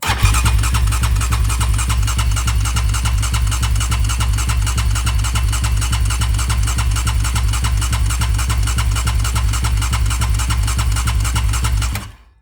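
A Yamaha Raptor 740 cc ATV engine cranked over continuously by the starter, a loud, steady, rapid mechanical churning that runs for about twelve seconds without firing, then stops abruptly.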